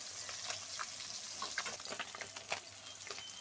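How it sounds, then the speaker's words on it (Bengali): Puti fish fry in mustard oil, a soft steady crackle with scattered pops and light stirring taps, fairly quiet and without speech. "পুঁটি মাছগুলো আমি লাল লাল করে ভেজে নেব"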